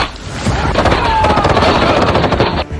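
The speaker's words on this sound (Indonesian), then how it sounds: "Aksi tembak-tembakan pun terjadi." Sustained gunfire from a film shootout between trained special forces and a large armed group on a dangerous island, dense overlapping bursts and booms filling the whole stretch, loud and close, with faint voices mixed in.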